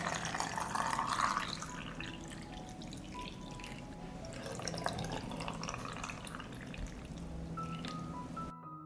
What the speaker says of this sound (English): I pour water into the jar to cover the strawberries.